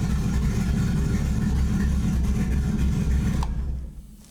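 A car engine idling lean in a garage during repair, a steady loud mid-low hum and rumble that fades out near the end as it is shut off.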